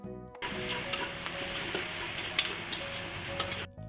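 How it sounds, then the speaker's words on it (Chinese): Nyonya dumpling filling stir-fried with sugar, salt, pepper and coriander powder, a loud, steady sizzle with scraping and stirring of the spatula in the pan, close up and without talk. "我们把白糖、盐、胡椒粉、芫荽粉全部倒下去，然后把它们炒均匀。"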